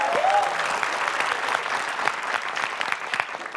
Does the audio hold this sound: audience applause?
yes